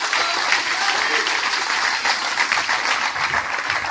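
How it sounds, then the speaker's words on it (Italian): Loud, dense audience applause for election candidates at a political rally presenting candidate lists, continuous clapping from a large crowd with some voices mixed underneath. "rivolgerei a loro un grossissimo applauso."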